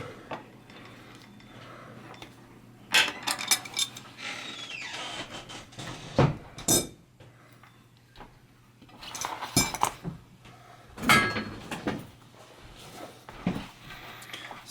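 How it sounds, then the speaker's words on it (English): Crescent wrenches clink and scrape against a bicycle wheel's freehub body as it is loosened, with several sharp metallic knocks and clicks in a sparse sequence, close and fairly loud over a low background hum. "use my other crescent wrench to hold the one up here. And then loosen."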